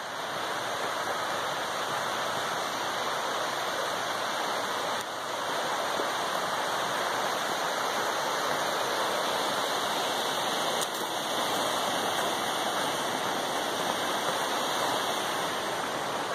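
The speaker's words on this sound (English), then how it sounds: "An awesome walk down by 10 Mile River." Ten Mile River rushes beside the Appalachian Trail as a constant, dense broadband wash of flowing water, steady and close throughout with no voices.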